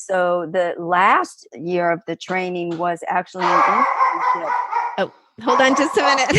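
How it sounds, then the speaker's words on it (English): A dog barks and yips repeatedly close by, harmonic barks breaking in between and over a woman's speech, with some whimpering and howl-like cries continuing as she pauses. "That's my dog."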